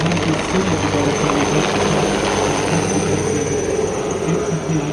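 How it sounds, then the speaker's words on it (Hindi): Three Indian Army Aviation Chetak helicopters fly over an army parade in Jaipur, a loud, steady rotor drone with constant engine roar that persists throughout without letup. "इसी बीच मंच के ऊपर से भारतीय थल सेना की आर्मी एविएशन की 3 चेतक हेलीकॉप्टर"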